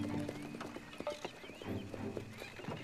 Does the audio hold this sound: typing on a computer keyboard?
no